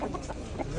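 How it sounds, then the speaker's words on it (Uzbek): A chick clucks in a short, soft burst of a few quick notes against steady outdoor background noise. "Bu ham jo'ja, ha? Bu ham jo'ja."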